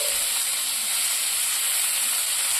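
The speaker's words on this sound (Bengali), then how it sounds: "এগুলোকে ভালো করে একটু ভেজে নেব দেখো নাড়তে নাড়তে আমার কিন্তু সুন্দরভাবে ভাজা হয়ে গেছে" Eggplant slices frying in oil in a kadai on a gas stove give a steady, close hiss with little variation, running alone without talk.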